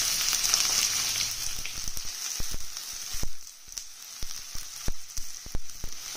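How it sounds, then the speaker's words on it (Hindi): Two onions frying in half a cup of oil in a pan: a bright sizzling hiss at first, thinning out into scattered sharp pops and crackles with quieter stretches between. "प्याज को लाइट गोल्डन ब्राउन कलर होने तक फ्राई होने देना है।"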